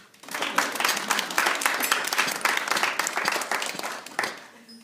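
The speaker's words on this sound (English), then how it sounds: "I think we should give Nat a round of applause for" Applause from wedding guests for the bride, Nat, during the best man's speech, a dense burst of many hands clapping that swells quickly and holds steady before fading near the end.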